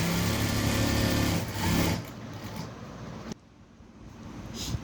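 A sewing machine stitches a blouse, its motor whirring steadily for about two seconds, then softer intermittent running and a pause before a faint restart.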